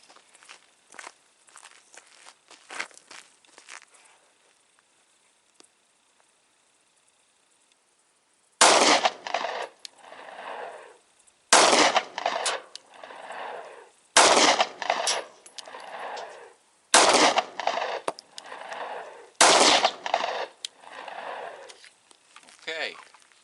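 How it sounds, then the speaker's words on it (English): Five 9mm 147 grain handloaded rounds are fired at a shield, sounding as loud, sharp reports spaced roughly every three seconds with ringing tails, after quieter handling noises and faint talk. "now we're going to put 5 rounds of 147 hand load through the shield and see how it"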